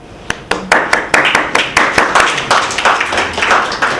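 Clapping breaks out among the audience at an academic colloquium after a welcome speech, a loud burst of distinct, closely spaced claps that keeps up at an uneven rhythm for several seconds.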